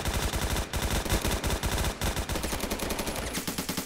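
Rapid automatic gunfire from the Roblox shooter Phantom Forces, loud and dense bursts of machine-gun shots firing almost continuously, with only brief gaps between volleys.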